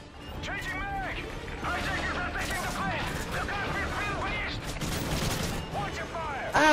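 Rapid gunshots during a video game firefight, a continuous crackle of shots mixed with other battle noise, layered under a talking voice and ending in a louder burst.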